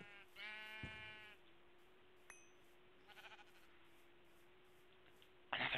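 Minecraft sheep bleat once up close, a wavering cry, then a few fainter calls follow, ending with a louder burst at the end over a steady hum.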